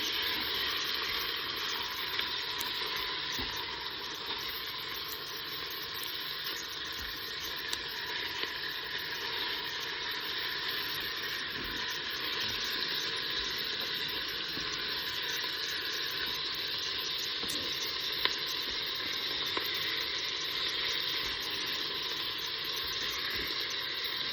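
Filet mignon browning in a Cookeo multicooker, a steady, even sizzle and hiss that holds constant and fairly close for the whole stretch, with a few faint ticks and no talking.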